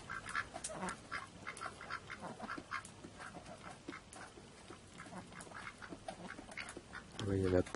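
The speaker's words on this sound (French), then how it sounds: "Ça c'est les canards." Farm ducks quack repeatedly at night, a busy scatter of nearby calls at moderate volume, with a person speaking briefly near the end.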